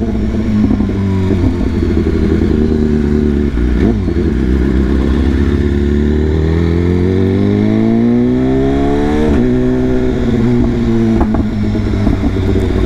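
A BMW S1000RR motorcycle engine drones steadily up close, its pitch rising and falling as it shifts and weaves through traffic on Long Island, New York, with the rumble of other traffic around it.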